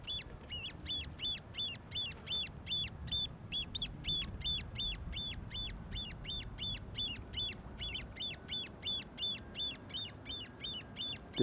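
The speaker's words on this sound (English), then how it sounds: "What you're hearing are baby grebes." A baby grebe beside water near an airport repeats rapid, evenly spaced high peeps for several seconds, about three calls a second, clear over a low background rumble with no talking.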